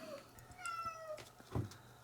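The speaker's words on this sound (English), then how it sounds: "a cat would just endlessly meow around noon" A cat meows repeatedly around noon, a few short rising calls, fairly close and quiet, with no talking.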